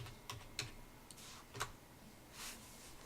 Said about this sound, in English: We do that by typing in the word resource,